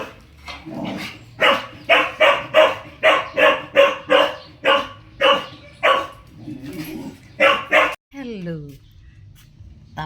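A dog bursts into a rapid series of about a dozen loud, close barks in quick bursts, then lets out a short whimpering whine as a person speaks briefly nearby.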